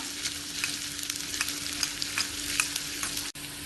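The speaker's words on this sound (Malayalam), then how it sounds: "ഇത് ഇളക്കി വറുത്തെടുക്കാം." Small pieces of chopped shallot sizzle and crackle in hot ghee, with frequent stirring scrapes of a spoon in the pan, close up, a steady hum beneath.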